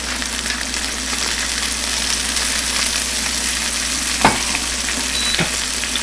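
Seasoned chicken pieces frying in a pan, a steady close sizzle and crackle running throughout, with a couple of brief knocks toward the end and no talking.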